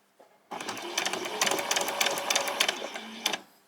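A sewing machine runs steadily, stitching cotton fabric for summer shorts in a continuous rapid whir after a short quiet start, with a few louder clatters near the end.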